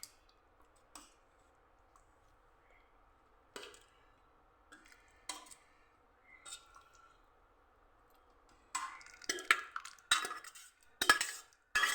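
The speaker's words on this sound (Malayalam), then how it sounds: "ഇത് നമുക്ക് സെർവ് ചെയ്യുന്ന പാത്രത്തിൽ ഇട്ടാം" Egg gravy masala curry goes from the cooking pot into a serving dish: sparse metal-on-pot clicks and taps at first, then a denser cluster of loud scraping and clattering spoon strikes near the end, close up.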